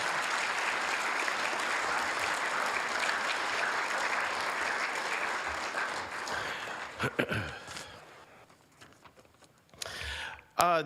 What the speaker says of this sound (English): let's give everyone up here a big round of applause.